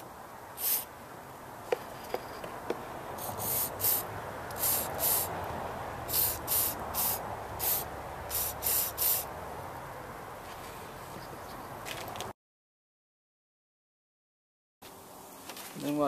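MAF sensor cleaner sprayed in a string of short squirts on a Ford P71 air intake, quick bursts of hiss in an uneven rhythm, close, ending in a brief silence.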